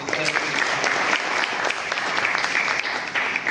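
An audience at a World Lion Day celebration in Junagadh applauds the story writers at an award session, with sustained close clapping throughout that dips slightly near the end.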